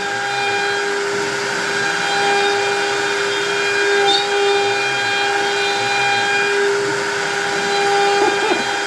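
A power tool cutting holes for LEDs with a dust boot extracting the sawdust, heard as a loud, steady whining hum with a strong suction-like hiss throughout, close up and alone.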